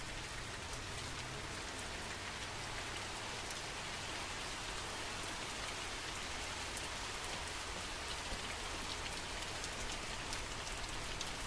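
Rain pours indoors inside a house in the horror game The Mortuary Assistant, an even, unbroken hiss of drops at moderate loudness with no other sounds.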